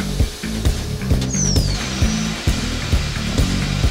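A small end mill grinds steadily through metal while machining ribs, with rhythmic pulses of machining noise repeating about every half second and a thin high whine above.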